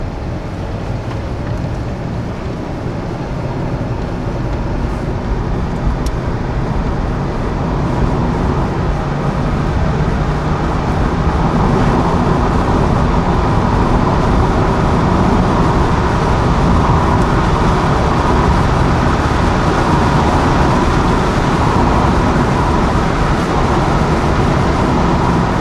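Damaged Ford Crown Victoria driving down the road, a loud continuous roar of engine, tyres and wind noise from inside the car, steady throughout with no talk.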